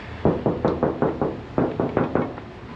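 Hollow knocking on a thin, untreated metal van body panel without sound deadening, about ten raps in two quick bursts with a short pause between, each hit ringing briefly.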